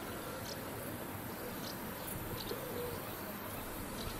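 Greek pigeons cooing outdoors, soft low murmuring coos buried in a steady wash of background noise, faint and continuous.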